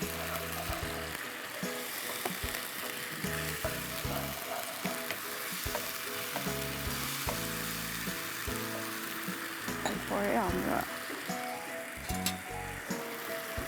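Garlic paste fries in a pan for a Nepali-style chicken dish, giving a continuous close sizzle with frequent stirring clatter and scraping, no talking.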